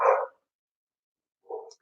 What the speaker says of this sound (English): See, the dogs are upstairs. They're excited.